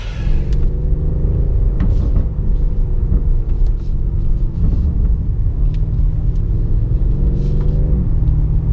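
A 2019 BMW M5 Competition with a 616 bhp engine driving on a local road. A steady, loud, low engine rumble runs throughout, with slight rises and falls in pitch as it accelerates and eases off.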